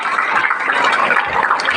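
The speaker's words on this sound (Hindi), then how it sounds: "ताली बजाना बेटा, जोरदार से ताली बजाना" Students clap loudly in welcome, a dense, continuous roar of applause from a large group of schoolchildren in a hall, steady throughout.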